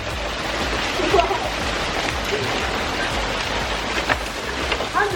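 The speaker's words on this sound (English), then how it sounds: "This just in, we've got hail in June." Hail falls in June, a dense steady patter of small stones striking surfaces outdoors, with a few sharper louder impacts scattered through the continuous rain-like hiss.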